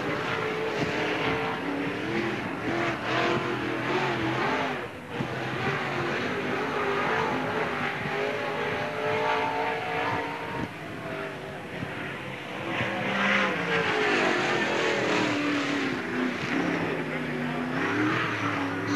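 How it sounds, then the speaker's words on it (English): A NASCAR Busch All Star Tour race car laps Freeport Raceway in 1997, its engine droning and rising and falling in pitch throughout, with an announcer's voice over the public address. "Out on the track now, car number 37, a Troy Bruder."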